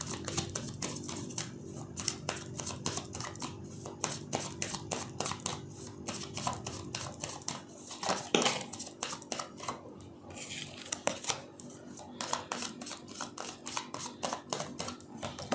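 A tarot deck is handled close up, with rapid, crisp card clicks and riffling flutters, repeated in quick bursts and brief pauses, quiet and without voices.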